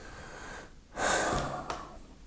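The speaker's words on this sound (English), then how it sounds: "You just take a deep breath and there's a break." A single deep inhaled breath, close and fairly loud, rising after a short quiet gap and easing off, taken alone without talk.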